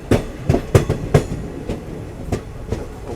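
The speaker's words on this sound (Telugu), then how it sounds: "ఇదిగోండి పట్టాలు చేంజ్ అవుతుంది ట్రైన్" A passenger train clatters over points as it switches tracks during heavy rain on a Hyderabad to Rajasthan journey, a quick run of sharp, loud wheel clacks followed by fainter, more spaced knocks, with no voices.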